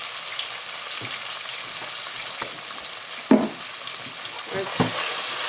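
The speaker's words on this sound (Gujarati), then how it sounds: "અને આવી રીતના ફેરવતું રહેવાનું છે, હલાવતું રહેવાનું છે" A curry mix frying in a pan gives a steady bright sizzle, while a spoon stirs it with scattered scraping knocks, one louder clack near the middle.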